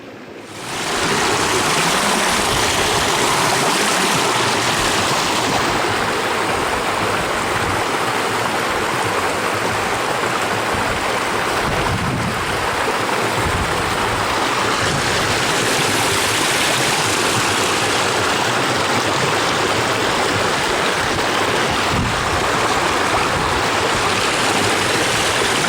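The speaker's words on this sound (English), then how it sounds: "a drink of nice, fresh Scottish stream water" Steady rushing of a Scottish mountain stream on Ben Lui flowing over rocks, loud and close, continuous broadband water noise throughout with no voices.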